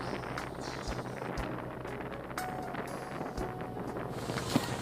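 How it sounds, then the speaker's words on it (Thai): Steady wind rushing across the microphone with a broad wash of water and waves during a boat ride over floodwater, continuous and fairly loud throughout, with no one talking. "เสียงคลื่นเสียงลมเสียง เรือ อาจจะดัง"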